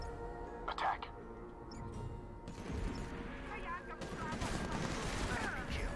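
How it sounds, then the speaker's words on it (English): In the video game SOCOM 4, gunfire and a grenade explosion produce dense, noisy bursts of combat sound with rapid shots and a sustained blast rumble building toward the end, alongside a voice. "Oh. Jeez, that grenade. Oh my gosh. So that was a grenade, I believe"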